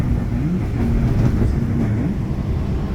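The Majapahit economy new-generation train runs with a steady, loud low rumble and faint rhythmic wheel clatter, heard from inside the carriage.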